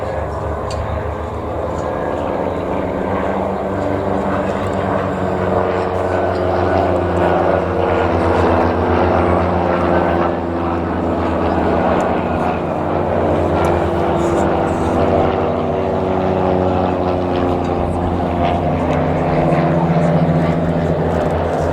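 Royal Danish Air Force Baby Blue display aircraft at an airshow at Cosford, a loud steady propeller drone with a droning engine hum that holds throughout without a break.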